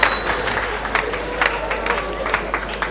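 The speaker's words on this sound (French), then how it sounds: "On va l'applaudir plus fort que ça, s'il vous plaît." Audience applause at a gala evening, sustained clapping from a crowd with scattered sharper claps standing out, moderately loud with faint voices mixed in.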